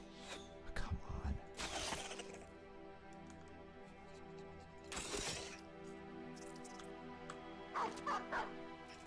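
A dog barks several times in the video game Battle Brothers, with short yips in bursts near the start, middle and end, over a steady game soundtrack.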